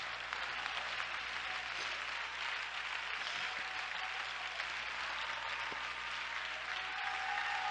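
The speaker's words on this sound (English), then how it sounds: "Clap your hands with me." A church congregation claps hands together in steady, dense applause for several seconds, moderately loud and even, with a faint crowd murmur underneath and no clear speech.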